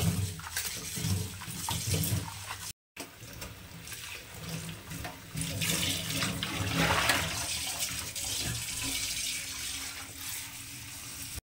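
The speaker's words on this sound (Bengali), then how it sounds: "এখন ধনেপাতাটাকে খুব ভালো করে ধুয়ে নেব।" Coriander leaves are washed in water, with a loud, continuous rush and splash of running water that is cut off briefly once and then resumes, churning and close by, with no talking.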